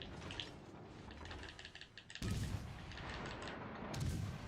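Naval gunfire in World of Warships Legends: deep, booming salvos with a sharp burst about halfway through and another near the end, over a steady bed of sea and battle noise.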